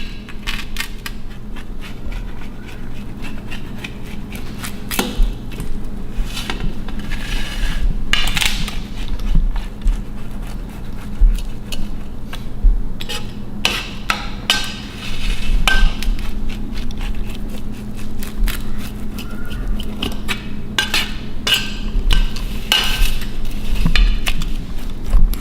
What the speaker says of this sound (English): now we're gonna slice up our pizza